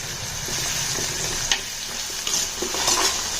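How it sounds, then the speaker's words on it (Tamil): Onions and green chillies sautéing in a pan make a constant close sizzle, broken by a few brief clinks and scrapes of a stirring spoon against the metal. "இப்போ வெங்காயம் ஓரளவுக்கு வதங்கிக்கிட்டு இருக்கு."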